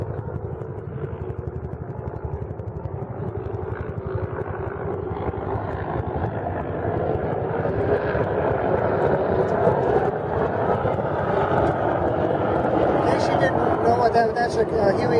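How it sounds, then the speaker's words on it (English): A Bell AH-1 Cobra helicopter gunship flies past near the USS Midway, a steady low engine and rotor roar that swells slightly as it goes by, with a voice talking over it. "That's a Huey Cobra that just went by, gunship."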